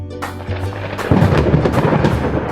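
A thunderstorm with a deep rumble of thunder that swells into a heavy crack about a second in, over steady rain, with no voices.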